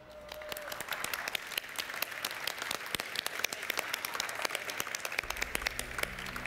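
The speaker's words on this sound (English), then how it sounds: "Everybody once again give a big applause." A crowd at a Gran Turismo Championships manufacturer event applauds with sustained, dense clapping that holds steady throughout, filling the space with a bright patter.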